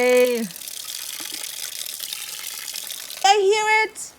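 Water runs out of a pipe feeding a restored water wheel, a soft continuous trickle between short bursts of nearby voices at the start and end.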